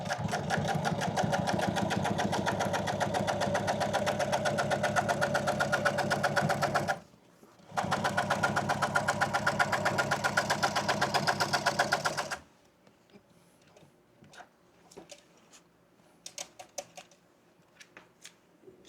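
A sewing machine stitches motorcycle seat upholstery in two long, loud, rapid runs separated by a brief pause. Scattered clicks and handling noises follow once the stitching stops.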